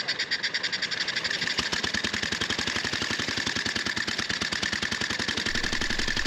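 A 1911 Scott veteran two-stroke motorcycle engine runs close by with a rapid, regular popping beat that steadies and sharpens after the first second and a half, loud and continuous with no talk over it.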